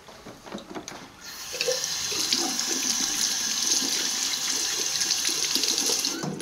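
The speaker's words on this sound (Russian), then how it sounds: "Мою руки." Water runs steadily from a tap into a sink as hands are washed, a continuous hissing splash that starts after a brief quieter moment and stays close and even, with no talking.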